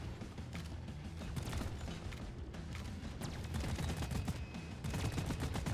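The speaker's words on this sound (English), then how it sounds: "there's the little electric detonators going off" Rapid overlapping blasts of electric detonators going off in Deep Rock Galactic, a dense crackling fusillade of small explosions over a continuous loud rumble of game combat, no speech.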